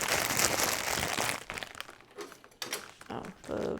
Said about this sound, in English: This is plastic bag sound.